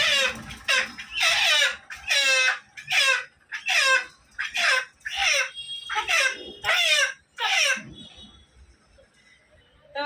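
Chicken clucking and squawking in loud, agitated repeated bursts about a dozen times in close succession, up close, with a poultry hen held for slaughter; no talk over it.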